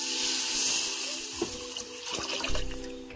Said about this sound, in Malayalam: ഇതിലേക്ക് കുറച്ച് വെള്ളമാണ് ഒഴിക്കുന്നത്.